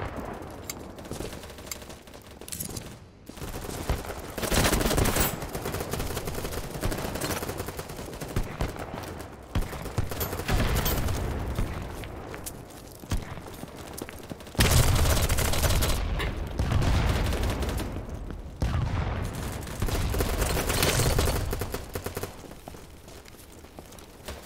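Sustained bursts of automatic gunfire in the BattleBit Remastered shooter game, dense rattling volleys with brief pauses, loudest in two long stretches around the middle and end, plus a few isolated shots and faint footsteps.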